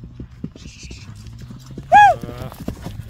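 Horse named Jaguar running, its hooves clip-clopping in a quick steady rhythm, broken by one short loud whinny midway.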